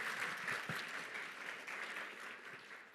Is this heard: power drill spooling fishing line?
no